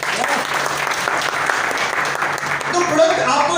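Strong, continuous applause rises from the audience at a seminar meeting in Berhampur, dense clapping close and loud for several seconds.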